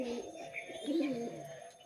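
Domestic high-flying pigeons kept at a home loft coo softly in a low, rolling murmur, a pair of gentle repeated calls close by and fairly quiet, with no talk over them.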